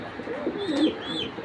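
A pair of red choco racer pigeons, a male and a female, gives a short soft cooing call close by, alone without talk.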